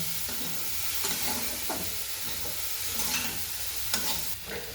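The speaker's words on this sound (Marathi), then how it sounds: "त्याला चांगल्या प्रकारे हलवून घ्यायचं" Sprouted moth bean usal is stirred in a pan, steady sizzling and frying noise with periodic scraping strokes of a spoon, close and fairly loud, without any talk.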